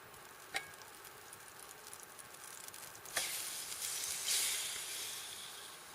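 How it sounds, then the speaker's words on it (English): Mushrooms sauté in butter in a pan over a Firebox Nano camp stove, a soft continuous sizzle and hiss with a couple of sharp crackles and a louder burst of frying toward the end, close and without talk. "Saute the mushrooms in butter."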